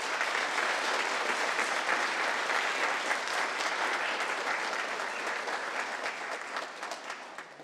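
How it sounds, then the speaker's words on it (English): Sustained audience applause at a youth aviation ground school commencement ceremony, a dense steady clapping from a large crowd that holds strong throughout and eases slightly toward the end. "please give a round of applause for Mr."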